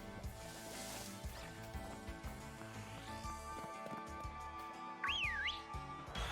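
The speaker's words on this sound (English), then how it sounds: "I didn't press anything to whistle." A whistle sounds during Pokemon Shield gameplay, a single wavering rising-and-falling tone near the end that rides over continuous game music and light footstep-like effects.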